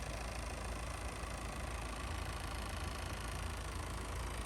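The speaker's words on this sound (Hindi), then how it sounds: "सिट्रोएन DW10 डीजल इंजन है ये, 174 हॉर्स पावर और 18 का एवरेज।" The 174-horsepower Citroën DW10 diesel engine of a 2021 C5 Aircross idling, a steady, quiet, broadband diesel rumble with an even low throb and no voices.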